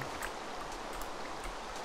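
Rain patters steadily in the Minecraft video game, a soft, even hiss of falling drops with faint scattered taps, low in level and with no talking.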